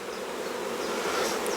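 Honey bees from a nuc colony buzz steadily around an opened hive during an inspection, a dense close hum with no voices.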